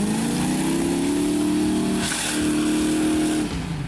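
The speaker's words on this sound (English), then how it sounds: "flooring the V8 engine is the only way to roll here, Adriaan lets rip" V8 Range Rover flooring it through a muddy off-road obstacle at a 4x4 challenge; the engine revs hard with rising pitch, holds near full throttle, dips briefly, then drops off sharply.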